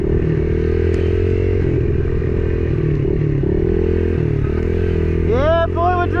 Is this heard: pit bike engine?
yes